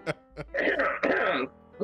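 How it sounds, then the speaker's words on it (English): A person clears their throat in a few short, rough bursts, close and fairly loud. "let me clear my throat"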